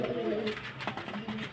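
Racing pigeons in a loft, soft low cooing from a bird or two nearby, brief and fairly faint against light background noise.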